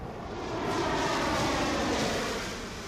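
A fighter jet such as a Rafale, Sukhoi or Mirage flies past with a loud roaring engine that swells and fades over a few seconds, with no voices.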